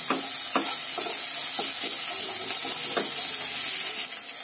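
Onions and potatoes frying in hot oil with a constant sizzle, broken by several scraping stirs at irregular intervals.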